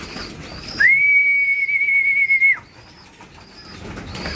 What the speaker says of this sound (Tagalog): May mga ibon pa sa labas eh.